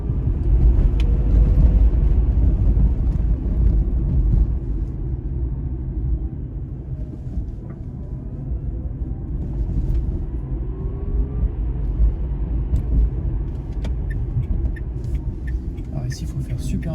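A small Dacia Spring electric car drives along, heard as a low road rumble and tyre noise from inside, fading slightly midway, while someone talks over it the whole time.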